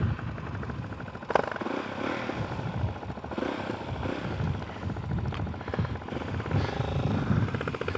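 A 450-class dirt bike engine revs and runs steadily at close range, with fluctuating throttle and a loud, continuous mechanical drone and a few sharp clatters.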